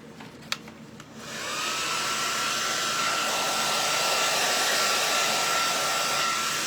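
A hair dryer set on cool, drying paint on a Gelli printing plate, starts after a second of quiet handling noise, then holds a loud, steady close-up whir.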